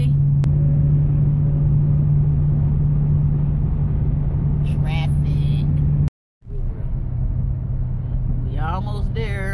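Steady low rumble of a car driving through heavy traffic on the way to Birmingham, continuous and loud, with a brief cut partway and faint other noises overhead.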